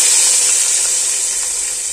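Hot oil with cumin, red chilli and garlic sizzles into a pot of kadhi, giving a loud, bright, continuous hiss that fades slightly over two seconds.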